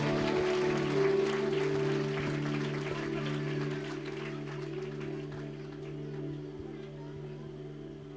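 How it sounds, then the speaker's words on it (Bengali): Church congregation clapping loudly together at a Good Friday service, a steady dense wash of applause over sustained organ or keyboard chords that fades slightly toward the end. "আমরা জোরে হাততালি দিই ঈশ্বরের কাজের জন্য।"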